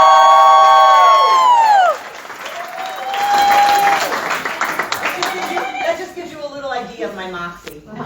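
An audience bursts into applause and cheering for a man's entrance at an endorsement event, with whoops and shouting voices first, then loud clapping that thins into scattered claps.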